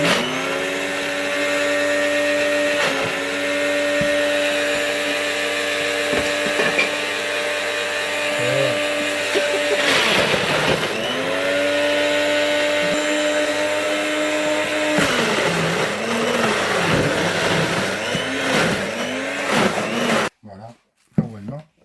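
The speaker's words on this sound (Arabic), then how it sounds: "ماكينة توجدي بها الماء ديال الرمان" An electric juicer machine grinds pomegranate and lemon into juice. Its close, loud motor whines steadily for about twenty seconds, with the pitch sagging and recovering several times under load, before cutting off abruptly near the end.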